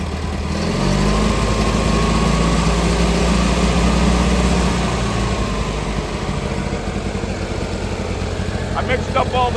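An Argo amphibious off-road vehicle's engine idles steadily while it warms up after startup, a continuous mid-pitched rumble that stays loud and even throughout, with a brief ticking rattle near the end.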